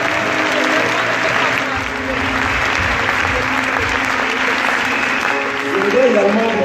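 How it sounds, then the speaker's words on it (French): Congregation at a church service applauding steadily for several seconds, a dense even wash of clapping with some crowd voices mixed in throughout. "Et je voudrais faire applaudir le Seigneur."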